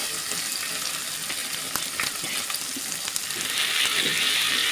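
Chopped onion frying in oil for a beef and potato curry with whole garlic, a steady close crackling sizzle that swells slightly louder near the end, with a few faint stirring clicks.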